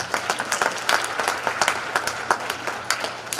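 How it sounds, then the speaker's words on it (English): A crowd applauds steadily for a few seconds, dense clapping from many hands filling the room at moderate volume. "go ahead and give another round of applause"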